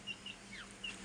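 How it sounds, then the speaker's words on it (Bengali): Silver Cochin chickens, a rooster and hen kept in the top tier of a four-level cage, give a few short, faint clucks and chirps against quiet farm background. "উপরের তালায় এক জোড়া কোচিং মুরগি আছে, বিদেশি জাতের মুরগি, কোচিং,"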